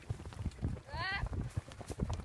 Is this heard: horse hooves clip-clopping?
yes